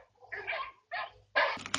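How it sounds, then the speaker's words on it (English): Loud dogs barking as picked up through a Yealink BH71 Bluetooth earpiece, three distinct close bursts of barking separated by short pauses, with no talk. "This is what it sounds like with loud dogs barking on the BH71"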